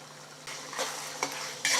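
An egg drops into a hot frying pan while egg rice is being made, giving a sudden sizzle that swells, with a couple of light scraping clinks of a utensil against the pan.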